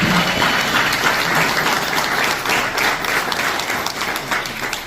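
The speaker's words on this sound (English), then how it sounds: "let's give Bill a round of applause" Audience applauding for a World War II veteran at a Pearl Harbor Day remembrance gathering, a steady, dense wash of clapping that sounds close and full, with no speech over it, easing a little toward the end.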